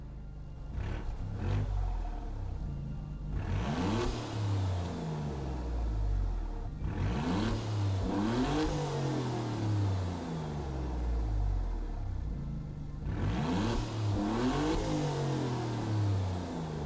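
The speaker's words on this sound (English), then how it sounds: "So starting with the engine swap you can get from the Julia GTA M 2020." Engine from the 2020 Alfa Romeo Giulia GTA M swapped into a car in Gran Turismo 7, revving in repeated rising sweeps that climb and fall back, loud and close, with short pauses between pulls.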